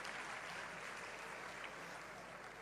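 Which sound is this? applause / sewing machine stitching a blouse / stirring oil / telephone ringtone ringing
applause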